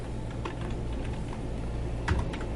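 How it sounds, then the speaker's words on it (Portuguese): Keys clack on a computer keyboard while entering spreadsheet headers in Excel: a run of quiet, close, uneven taps, then a slightly sharper press near the end over soft background hiss. "Você digita e aperta Enter."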